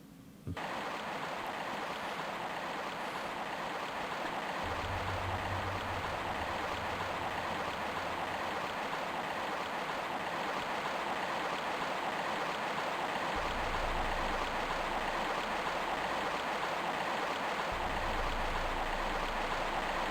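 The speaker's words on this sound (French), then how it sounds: "Il y a du courant dans l'eau." Steady rushing flow of river water in Tomb Raider I Remastered, continuous broadband wash with occasional low rumbling swells, close and fairly loud throughout, no voices.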